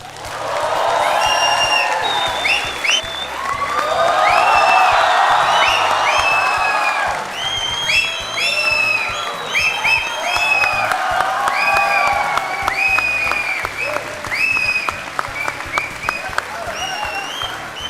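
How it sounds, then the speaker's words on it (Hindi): A studio audience on a Hindi television courtroom show breaks into sustained applause with scattered cheers and whoops, swelling and easing in waves over about eighteen seconds. "और ये तालियां बजते रहें"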